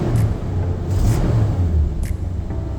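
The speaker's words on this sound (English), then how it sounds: "It's idle up a little higher than I want it to be." A 454 V8 truck engine idling after a tune-up, a steady low rumble running throughout, close and fairly loud, with the idle sitting a little high and slight fluctuations in pitch.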